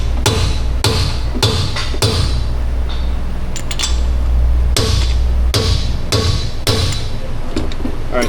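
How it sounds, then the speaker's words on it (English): Heavy hammer blows on the rear axle of a Ram 1500 pickup: a dozen or so sharp metallic strikes in irregular bursts, loud and close over a constant low background hum. "Oh, that's a heavy hammer."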